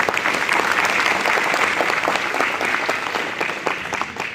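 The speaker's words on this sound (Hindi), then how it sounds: "जो अभी तक जितने भी स्पीकर्स आए हैं उन सबके लिए जोरदार तालियां, जोरदार।" An audience at an International Youth Day talk breaks into loud, sustained applause, a dense wash of many hands clapping at close range throughout.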